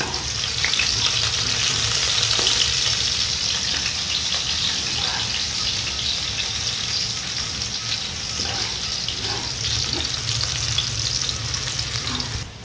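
Pancit bihon rice noodles fry and get stirred in a pan, giving a loud, steady sizzle throughout with scraping stir sounds and small clatters on top.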